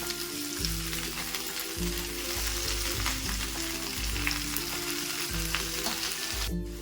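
Palak spinach sizzles as it goes into potatoes in a pan, with a loud, steady close frying hiss, periodic low thumps of stirring and a constant background hum.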